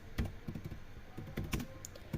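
Python code being typed on a computer keyboard: quiet, close clicking keystrokes in quick irregular bursts with short pauses between them, heard alone against a low background hiss.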